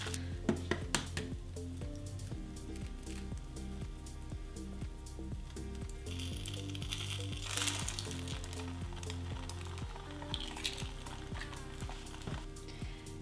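Eggs frying gently in a pan, a soft continuous sizzle with small pops and crackles and occasional light clinks, fairly quiet and close.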